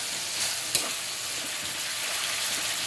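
Vegetables frying in a pan and being stirred, giving a continuous loud sizzle with a few scraping stir sounds, heard alone without speech.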